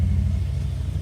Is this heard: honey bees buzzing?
no